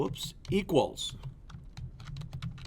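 Keys on a computer keyboard tap out in quick, uneven clicks, close and fairly crisp, while someone talks over the first second and the typing then carries on alone.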